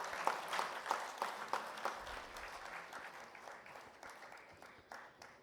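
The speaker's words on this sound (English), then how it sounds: "Can we hear a round of applause for the dignitaries?" Audience at an awards ceremony applauding dignitaries, a steady round of many hands clapping that rises in bursts and gradually thins out.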